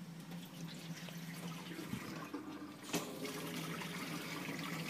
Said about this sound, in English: The reason I open the faucet up is just to purge the air out of the system.